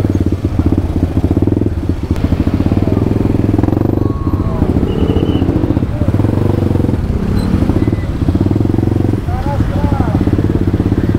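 Riding a 150cc supermoto through stop-and-go traffic, its single-cylinder engine chugging loud and steady close by, with clatter and a few thumps mixed in; a voice speaks over the engine at times.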